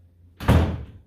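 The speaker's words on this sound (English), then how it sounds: "Shut this door." A single door is pushed shut in a home where a robot vacuum is in use, giving one solid, fairly close thunk that decays quickly in a quiet room.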